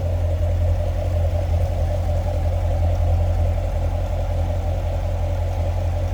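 A 2018 Chevrolet Corvette Grand Sport's 6.2 liter V8 idles steadily under the open hood, a close, constant low rumble with no voices over it.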